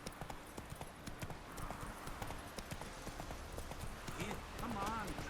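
Roach the horse gallops in The Witcher 3, a steady clip-clop of hooves running throughout, fairly close, with voices talking over it.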